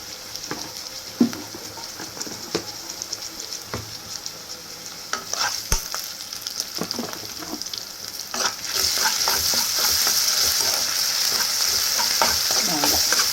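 Ginger garlic paste sizzles and fries in a pan for a spicy egg gravy, with scraping stirs throughout and a louder, steady hiss swelling over the last few seconds.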